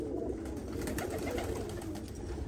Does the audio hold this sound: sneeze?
no